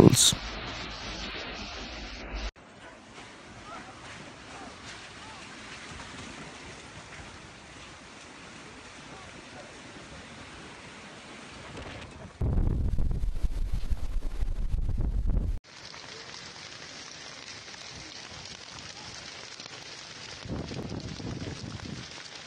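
Strong wind roars with crashing surf on the coast near Rome, a dense rushing noise that swells into an especially loud gust before settling back.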